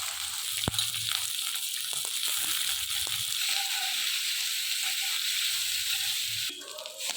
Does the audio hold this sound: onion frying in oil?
yes